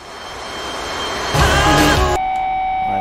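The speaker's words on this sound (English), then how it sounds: "I'm taxiing to the runway now. I'm taking off now." A video game airplane's engine drones steadily while taxiing to the runway, swelling into a louder roar for a moment before settling back to a constant hum.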